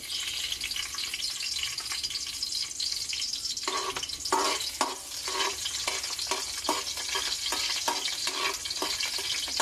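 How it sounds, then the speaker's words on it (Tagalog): Garlic dropped into hot cooking oil for chopsuey, crackling and sizzling in a steady, close hiss that breaks into sharp bursts of popping and spattering about midway, with no talking. "mainit na yung mantika, ilagay na natin ang bawang"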